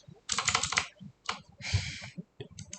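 Rapid bursts of keystrokes on a computer keyboard, clattering in quick clusters separated by short pauses, close and fairly quiet with no talk.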